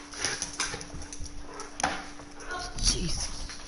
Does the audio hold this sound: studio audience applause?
no